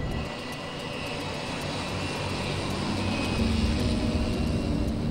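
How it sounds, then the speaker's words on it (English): A Chalk's Ocean Airways seaplane's engines roar steadily during its takeoff run on water, a loud continuous drone that swells slightly as it goes. "This is the moment most passengers are paying for, the takeoff."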